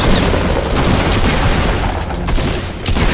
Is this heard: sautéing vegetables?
no